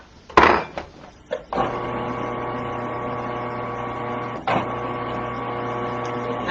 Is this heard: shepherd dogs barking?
no